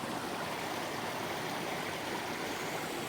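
Clean water from a stream flowing after rainfall, a steady broadband rush and gurgle that stays constant and fairly close throughout, with no voices.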